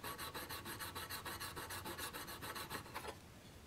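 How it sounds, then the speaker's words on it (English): A woodturning gouge's flat wing is honed against a 600 grit diamond card, giving a fast, even rasping rub of about twenty strokes that stops near the end, close and quiet, with no voices. "I'll hold the card against the flat wing and hone it"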